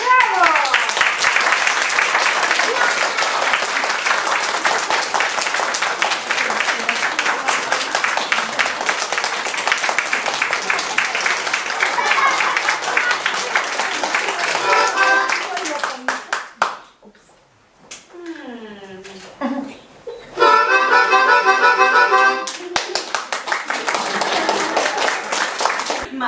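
Audience at a gala clapping in sustained, loud applause for about fifteen seconds, then a pause with scattered noise before another burst of clapping near the end.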